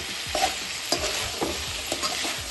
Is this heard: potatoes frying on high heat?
yes